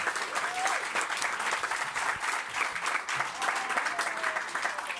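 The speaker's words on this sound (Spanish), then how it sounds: "Un aplauso para Axel." Audience at a Campus Party presentation applauding, a steady, dense wave of clapping from a crowd that holds for the whole stretch.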